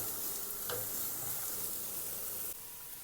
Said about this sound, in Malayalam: കുറച്ച് തേങ്ങാക്കൊത്തും കൂടി ചേർത്ത് നന്നായിട്ടൊന്ന് വഴറ്റിയെടുക്കാം.